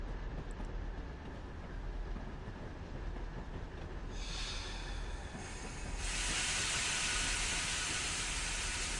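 Simulated New York Central train in a Boston–Albany railroad sim, rumbling over track changes with a hissing, rising wheel flange squeal growing louder toward the end.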